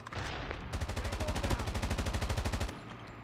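A legendary gun in a video game fires a rapid, even burst of about two dozen shots over two seconds, loud and close, with quieter game ambience before and after.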